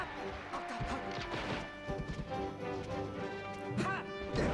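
Hits landing during a Super Smash Bros. Melee tournament match as a player repeats up smash attacks, sharp cracking impacts scattered over busy game sound effects and music, close and fairly loud.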